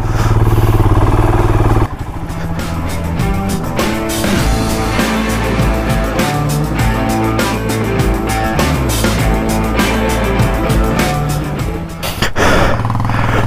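An off-road motorcycle on a muddy, rain-soaked farm track in the Sandakphu hills of Nepal roars and revs hard as it pulls free, its engine loud and close with bursts of throttle and mechanical clatter.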